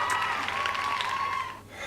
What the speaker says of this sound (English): Hit your delayed applause.